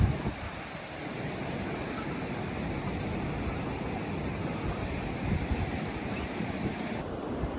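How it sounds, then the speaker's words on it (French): Sea waves at Bali roll in as a steady broad wash of surf, mixed with wind buffeting the microphone, continuous and fairly loud throughout. "il y a la mer, hein, franchement."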